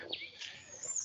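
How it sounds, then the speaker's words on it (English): Birds chirp in a forest, with thin high tweets and a faint airy background, moderately distant and fairly quiet. "Nice birds."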